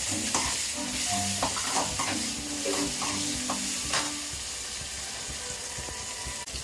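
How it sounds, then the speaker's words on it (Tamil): Crushed garlic stirred into onions frying in a pan while cooking karuvadu thokku, with a steady sizzle and the scrape of a spoon, loud and close, no talk. "ஒரு நாலு பல்லு பூண்டை வந்து நசுக்கி வச்சுருக்கிறேன் அதையும் சேர்ப்போம்"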